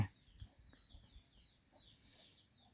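Farmyard chickens cluck in soft, scattered bursts at a rural charcoal-burning spot, faint and somewhat distant over a quiet background, with a few sharper calls standing out.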